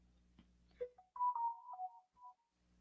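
A phone ringtone chimes a short melodic tune of several bright tones, moderately loud and close, ringing alone over a faint low background hum.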